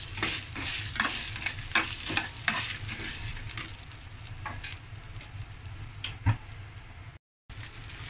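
Minced garlic stirred through a sizzling pan of shrimp-paste butter pork ribs: steady close frying hiss with repeated scraping stirs and soft clacks, uninterrupted except for a momentary dropout near the end.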